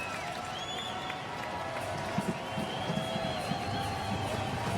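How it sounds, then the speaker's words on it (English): A soccer stadium crowd at a Sacramento Republic FC match against Arizona United in 2015 murmurs and cheers faintly in the distance, with a few scattered claps rising toward the end. "Crowd getting into it here."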